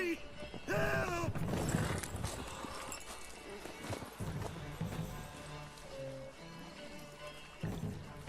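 Hooves clip-clop at a run as a horse gallops in The Witcher 3, with game music and voices layered over the steady hoofbeats and a brief whinny-like cry near the start.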